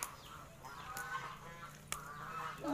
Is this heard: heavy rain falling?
no